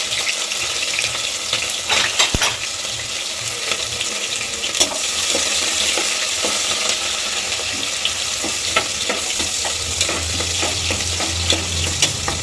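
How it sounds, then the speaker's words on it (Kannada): Chopped onions with curry leaves and mustard seeds sizzle steadily in hot oil for vegetable pulao, a continuous close frying hiss with occasional stirring clinks and scrapes, no voices. "ಈರುಳ್ಳಿ ಚೆನ್ನಾಗಿ ಫ್ರೈ ಆಗ್ತಾಯಿದೆ."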